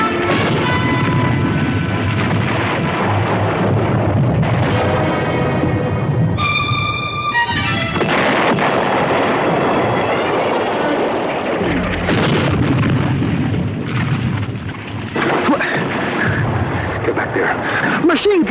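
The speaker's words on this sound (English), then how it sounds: "Machine gun." Battle scene in a war drama with heavy gunfire and explosions roaring continuously, loud and dense, with a brief tonal burst midway and voices shouting over the din.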